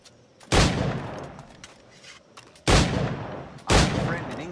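Three loud, sharp gunshots from the video game Assassin's Creed Black Flag, each cracking out and then decaying slowly, spaced unevenly over a quiet background.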